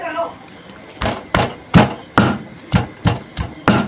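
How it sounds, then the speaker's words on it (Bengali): Pointed gourds being crushed bit by bit on a stone grinding slab with a pestle stone, eight sharp, loud thuds at a steady pace, each a short percussive knock with a little scrape after it. "এবার আমি এই পটলগুলোকে শিল নোড়াতে একটু একটু করে থেদলে নেব"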